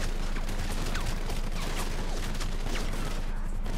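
Gunfire in Grand Theft Auto V, a dense run of rapid shots and bursts over a constant loud game background, with no talking.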